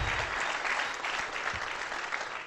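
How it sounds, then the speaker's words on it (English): A seminar audience bursts into loud, close applause, with a dense wash of clapping hands that continues evenly for a couple of seconds. "Round of applause."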